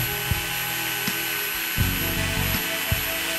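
An NRT-PRO TG-99 cordless brushless 4-inch 20-volt angle grinder runs steadily at its low speed 2 setting, a continuous close whine with a few faint knocks and bumps along the way.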